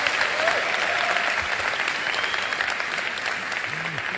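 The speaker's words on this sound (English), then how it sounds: "can we do another round of applause?" An audience at a Lagos gathering of developers and entrepreneurs gives a sustained round of applause, a dense steady clapping that fills the whole stretch with faint crowd noise underneath.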